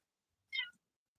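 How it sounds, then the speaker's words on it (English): A single short cat meow, clear and fairly close, against silence. "My cat's agreeing with me."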